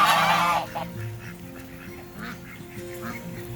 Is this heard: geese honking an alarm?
yes